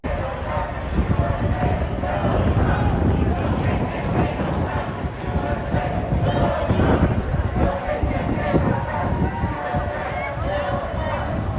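A huge outdoor crowd at a No Kings protest in New York City, a dense, continuous roar of many voices and movement that stays loud and steady throughout.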